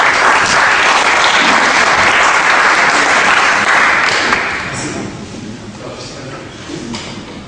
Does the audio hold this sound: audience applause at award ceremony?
yes